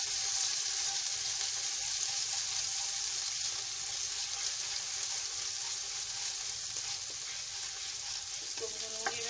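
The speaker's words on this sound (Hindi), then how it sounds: "इसको भूनूंगी मैं लहसुन के साथ थोड़ा।" Ground ginger paste fries with garlic in a pan for soup, giving a continuous close sizzle with faint stirring scrapes and a small clink near the end.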